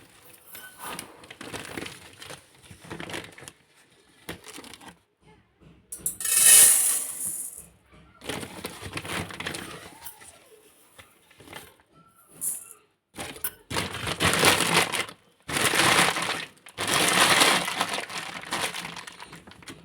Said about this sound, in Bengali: চাল বার করে নিয়েছি, আর চালটা ধুয়ে নেবো